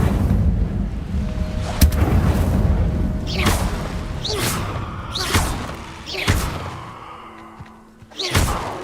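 Incendio fire spell in Hogwarts Legacy, cast repeatedly as a series of loud whooshing, booming bursts spaced a second or so apart, close and forceful.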